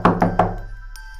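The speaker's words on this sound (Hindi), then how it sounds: "इसी समय दरवाजे पर अब नॉक करने की आवाज़ आती है" Three sharp knocks on a door in quick, even succession, loud and close, followed by a faint thud or two with no talking.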